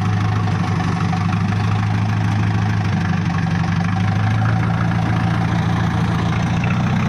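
A small farm tractor engine, on a 4-ton rig with power steering, idles steadily and loudly nearby, a constant low rumble with a rough, knocking chug and no talking.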